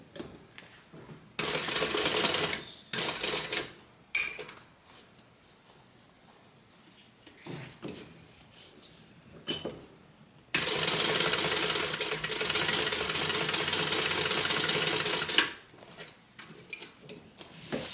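A sewing machine stitches a tote bag divider in two sustained runs separated by a pause filled with handling noises, close and moderately loud.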